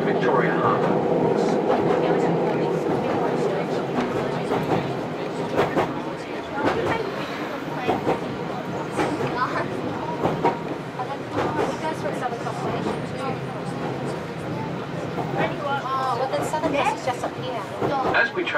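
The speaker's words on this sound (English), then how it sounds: "the city super tram takes you on its new and extended journey" A Melbourne city tram runs along the Victoria Harbour waterfront, its rolling rumble and rail clatter steady and close while a narrator talks over it throughout.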